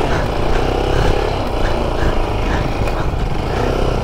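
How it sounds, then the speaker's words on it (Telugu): A stunt motorcycle revs steadily while the rider holds a single-hand wheelie, its engine a continuous loud droning whine close by with no pauses. "ఇప్పుడు శశి సింగిల్ హ్యాండ్ వీలీ చేస్తాడు."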